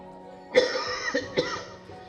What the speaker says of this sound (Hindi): आप खांसना बंद करोगे प्लीज?